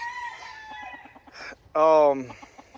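A gamefowl rooster crows loudly and close by, preceded by a series of soft, rhythmic clucks and a few short squawks.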